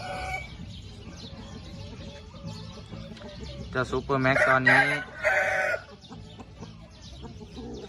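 A rooster in a chicken breeding pen on a farm clucks and briefly calls in a short loud burst, with someone talking steadily before and after.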